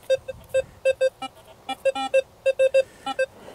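Rutus Versa metal detector sounding on a buried target: a string of short, loud, evenly pitched beeps in uneven rhythm, some slightly lower, heard close with no talking.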